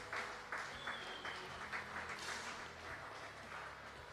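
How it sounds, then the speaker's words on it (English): Spectators applaud at a shooting championship in Lima, a steady patter of clapping in bursts, moderately distant and fairly quiet. "I can certainly hear the crowd here in Lima loving this"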